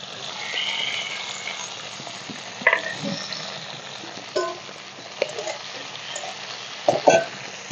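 Onion and tomato fry in mustard oil with nigella seeds, giving a steady sizzle with a few sharp clacks and scrapes from stirring in the pan. No voices are heard.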